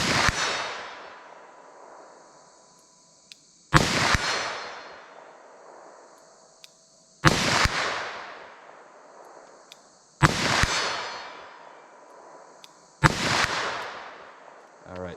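Five loud handgun shots ring out at even intervals of about three seconds, each a sharp crack followed by a long echoing decay, from a .357 Magnum or 9mm loaded with Hornady Handgun Hunter ammunition.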